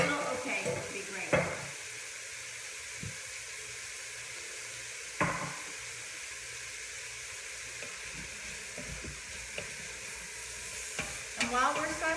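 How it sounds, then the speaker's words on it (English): Diced leeks with Meyer lemon zest sautéing in a pan for creamy asparagus soup, a soft steady sizzle with occasional spoon scrapes and stirring knocks. "you're going to want to saute this until you see the leeks getting opaque"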